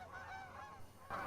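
A goose honks in flight, a couple of faint, nasal calls that run into each other, at a distance and with no talking.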